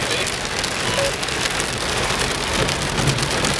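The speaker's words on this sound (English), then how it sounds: "So we're getting some hail right now." Pea-sized hail and rain fall steadily onto a car outdoors during a flooding storm, a dense, even patter with no voices.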